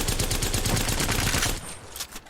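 Rapid automatic gunfire in Apex Legends with the recoil held down, a dense loud stream of shots for about a second and a half before it cuts off, leaving a few fainter trailing pops.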